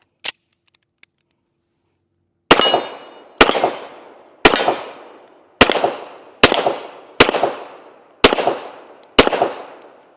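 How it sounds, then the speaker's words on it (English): A Colt M45A1 pistol fires eight loud, sharp shots at the range in a steady, evenly spaced sequence. Each report rings out briefly, and a couple of faint clicks come before the first shot. "go ahead and get loaded up. Take a few more shots with it."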